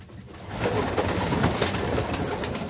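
Pigeons coo softly inside a loft, a steady murmur of low throaty calls with faint rustling, continuous through the moment with no talk.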